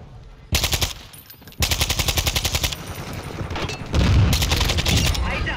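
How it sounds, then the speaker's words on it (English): Rapid bursts of video game machine gun fire come in several long, loud volleys separated by short pauses, each a dense string of shots close up. "I guess I'll just get one more triple kill with this gun"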